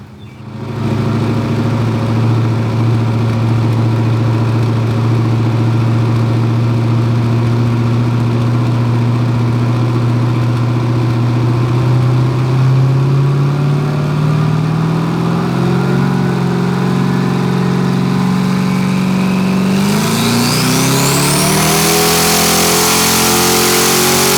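A Ford Fairmont engine making over 700 horsepower is run at full throttle on a dyno, its loud steady drone climbing gradually in pitch, then sharply screaming higher near the end, alone with no talk.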